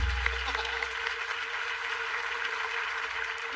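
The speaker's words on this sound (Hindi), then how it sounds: "वाह कमाल है यार, तालियां बनती हैं।" Studio audience applause on a Hindi comedy talk show with Sanjay Dutt and Sunil Shetty as guests, a steady dense wash of clapping held at an even level throughout with a low rumble underneath.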